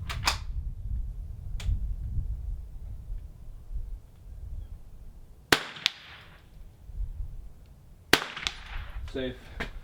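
Rifle shots ring out at near and far targets during an NRL22 course-of-fire match run-through at an outdoor range: sharp cracks spaced several seconds apart, some in close pairs, over steady wind rumble.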